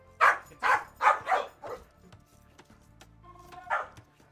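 A dog barks in a rapid run of four or five close barks, pauses briefly with faint background noise, then gives one final bark.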